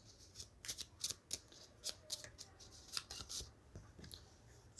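Tarot cards being shuffled by hand in quick, close riffling bursts of crisp flicking and snapping, repeated over several seconds with no talking and a faint low hum beneath.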